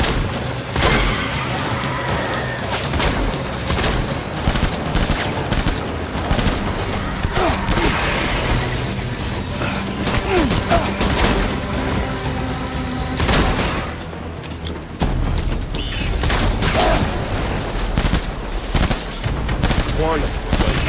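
Sustained bursts of gunfire and booms in the video game Death Stranding, dense rapid volleys continuing throughout with brief lulls, loud and close, with voices talking over the shooting.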